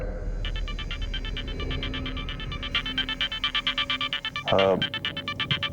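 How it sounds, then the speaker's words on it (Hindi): A phone ringtone pulses in quick repeated electronic beeps, steady and fairly loud, over a low background murmur, with a brief rising warble near the end before the beeping resumes. "भाई साहब, ऑफिस से एक जरूरी फोन आ रहा है"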